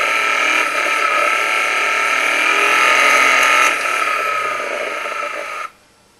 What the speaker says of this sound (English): it's the classic kind of rattling noise in the background that you can hear